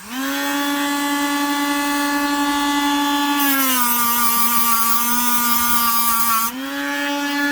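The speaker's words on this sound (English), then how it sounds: "I'm just going to increase the speed of the Dremel." A Dremel rotary tool cleans a part from a Gottlieb pinball machine, holding a loud, steady high-pitched whine that drops in pitch partway through, then climbs back up near the end.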